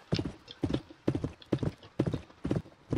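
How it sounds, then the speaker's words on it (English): A horse gallops in the Roblox video game, its hooves clip-clopping loudly and close in six rhythmic bursts of rapid beats separated by short gaps. "Come on, gallop, boy, gallop."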